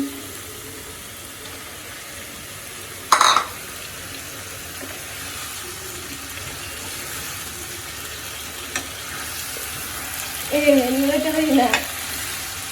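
Chicken pieces fry with turmeric and spices in a pan for chicken roast, a faint steady sizzle with a sharp clatter early on and a brief tonal sound near the end.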